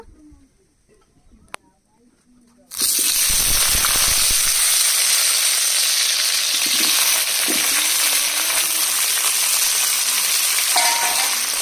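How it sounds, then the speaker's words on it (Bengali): Potatoes drop into hot oil in a pan and burst into a loud, continuous sizzle that holds steady to the end, with a few stirring scrapes after a quiet start. "আলুগুলো ভেজে নেব।"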